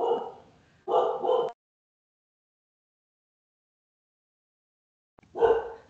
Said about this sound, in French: Excusez mon chien, attends un petit peu.